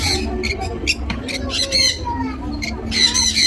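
Birds squawk in harsh, repeated bursts close by, with chickens among them and people talking underneath the noisy calls.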